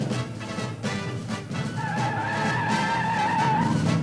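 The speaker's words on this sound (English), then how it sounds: "Our Javelin wasted no time coming off the line." A 1971 AMC Javelin with a 401 engine and 3-speed automatic launches hard off the line, loud engine roar under squealing, scrabbling Goodyear E60 tires, with a rising tone partway through.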